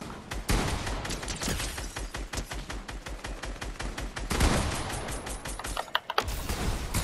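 Rapid SMG fire in Fortnite, long bursts of loud, closely spaced shots with brief pauses and a few heavier booms near the end, no voices.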